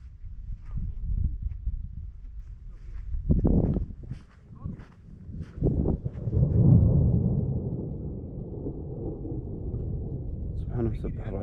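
Thunder rumbles over open country during a winter rainstorm in northeast Ha'il and Qassim, Saudi Arabia, rolling low and fairly near in swelling waves, with people talking and wind or rain noise around it.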